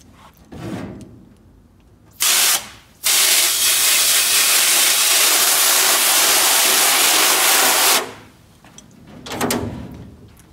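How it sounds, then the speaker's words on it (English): A hose sprays hard and steadily for several seconds, wetting a screen for screen exposure, a loud broad hiss of water hitting the surface, with a short burst just before it. "I'll also spray the back of the screen and get that wet also."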